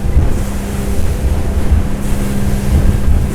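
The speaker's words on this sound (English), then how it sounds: "Pick the revs up a little bit." A Jeanneau Cap Camarat 9.0 motor boat's engine drones steadily and loudly at cruising speed of roughly 4,000 RPM, with a constant low hum mixed with rushing wind and water noise throughout.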